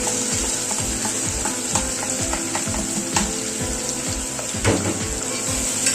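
Chopped onion, green chili, carrot and tomato are stirred in hot ghee, giving a steady sizzle with repeated scraping strokes of a spoon against the pan, close and continuous, with no talking.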